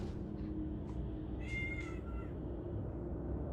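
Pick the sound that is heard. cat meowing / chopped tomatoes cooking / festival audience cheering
cat meowing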